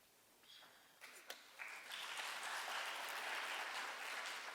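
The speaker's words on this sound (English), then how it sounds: "Let's not have any applause until the end of the debate." Debate audience breaking into applause, starting with scattered claps and swelling into a steady, fairly faint wash of clapping.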